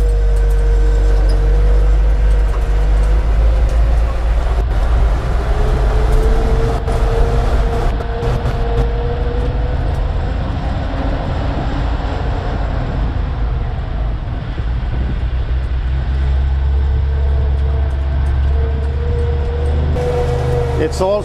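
Volvo TL 22 military truck engine droning steadily while driving, a loud low rumble with shifting tones from the gearbox, continuous throughout and overlaid by someone talking.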